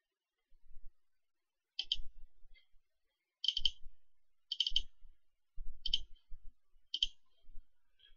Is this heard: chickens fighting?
no